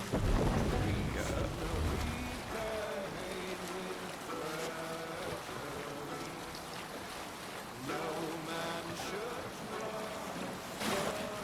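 A Viking longship under sail in Assassin's Creed Valhalla, with steady wind rushing and water washing against the hull, a louder swell at the start and another near the end.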